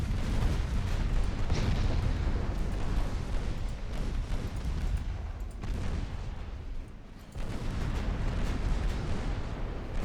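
Naval artillery fire in the warship game Ultimate Admiral Dreadnoughts, a continuous heavy rumble of booming gunfire with a brief lull near the end before the barrage resumes.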